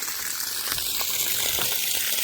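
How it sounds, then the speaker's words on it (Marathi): Water gushing from a borewell pump as it starts, splashing steadily with a broad rushing hiss, close by, with occasional louder bursts and no voices. "चालू झाले आणि लगेच इकडे पाणी पण चालू झालं आहे"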